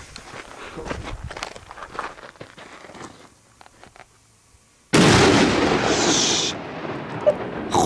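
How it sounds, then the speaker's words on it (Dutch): A sharp, loud firecracker blast erupts partway through, followed by a sustained crackling roar of bursting firework noise; earlier there is rustling and footsteps. "Goeie knaller, hoor. Die grote."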